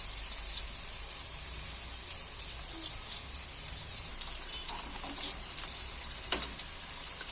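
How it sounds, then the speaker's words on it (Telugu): Bitter gourd (kakarakaya) pieces roasting in hot oil in a pan, giving off a steady, close sizzling hiss with faint crackles and pops throughout and no talking. "మెత్తగా కాకుండా బాగా కొంచెం రోస్ట్ అయ్యేలాగా రోస్ట్ చేసుకోవాలి ఇట్లా, అప్పుడే చాలా బాగుంటుంది కాకరకాయ ఫ్రై."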